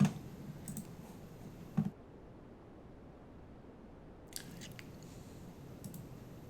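Two crisp, quiet computer mouse right-clicks about two seconds apart, with a fainter click later, heard close up against a near-silent background.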